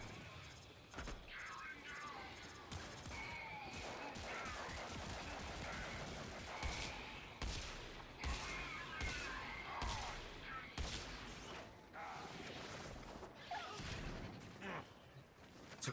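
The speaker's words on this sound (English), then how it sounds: "It's a grenade launcher." A grenade launcher fires repeatedly in a video game, a series of muffled thumps and bursts at a low overall level, mixed with mechanical clicks and a talking voice throughout.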